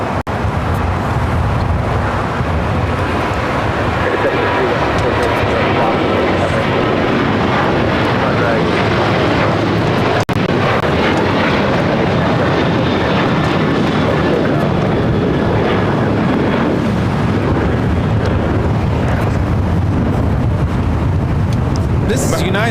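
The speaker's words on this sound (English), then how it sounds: "This is United 1897 taking off to Denver on the 737-800" A United Boeing 737-800 takes off for Denver at LAX, a steady loud broadband jet roar filling the whole stretch, with a voice talking over it.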